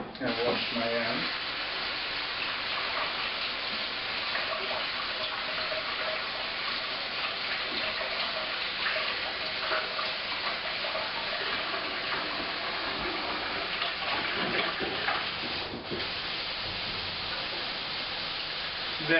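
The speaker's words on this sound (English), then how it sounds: "And wash my hands." Tap water runs steadily during handwashing in a kitchen, a continuous broadband splashing rush that stays loud and even for nearly twenty seconds, with a brief shift near the end.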